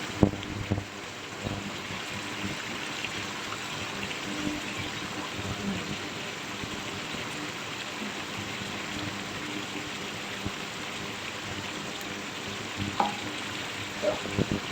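Goat meat coated in ground spice paste, with ginger and garlic, fries in a pan as a steady low sizzle, faint and continuous, with occasional soft clinks and stirring knocks.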